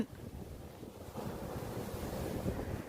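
Rough ocean waves churn around a boat during a burial at sea, heard as a steady, low rushing surf mixed with wind that swells slightly louder toward the end, with no voices.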